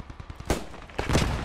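Gunfire in the World War II shooter game Post Scriptum: two loud bursts of shots about half a second apart, the second longer and rolling, with no talk over them.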